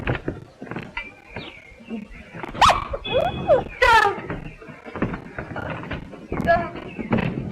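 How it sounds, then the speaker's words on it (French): A dog barks several times indoors at a convent doorway, sharp close yelps mixed with whimpers and shuffling, while people speak in French around it. "Oh, le chien, le chien!"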